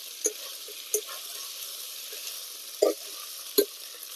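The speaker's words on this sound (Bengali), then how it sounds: "আদা রসুনের কাঁচা গন্ধ যাওয়া অবধি ভেজে নেব।" Ginger garlic paste with jackfruit and potato fries quietly in a pan under a low hiss, broken by a few distinct scraping stirs and knocks, about four or five spaced strokes.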